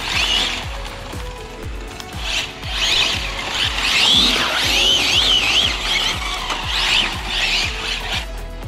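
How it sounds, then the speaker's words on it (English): An Arrma Felony RC car on a large 30000mAh LiPo battery spins all four tyres, producing loud, wavering high-pitched squeals and rattly drivetrain whine over a gritty motor roar, surging repeatedly. "That's spinning all 4 tyres at just about any speed."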